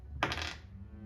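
Dice dropped and rolled across a table during a tabletop role-playing game combat, a brief clattering rattle that fades within half a second, fairly faint.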